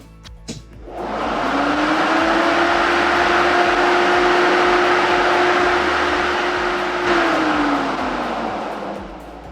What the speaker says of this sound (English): the fan turns on